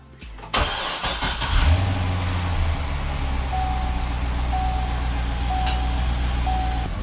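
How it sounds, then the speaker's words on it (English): Chevrolet Corvette C6 engine during a rebuild: an opening click and crank, then the engine catches with a loud rev and settles into a steady, close idle, with a faint repeating whine above it. "Let's start the car"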